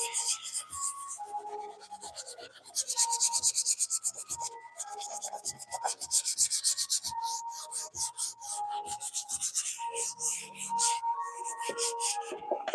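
Painted wooden boxes are hand-sanded with 220-grit paper ahead of an epoxy coat, producing close, quiet, rhythmic scratchy rubbing strokes with short pauses between bursts.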